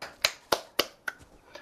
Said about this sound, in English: That was my hands joining together as one and then parting repeatedly.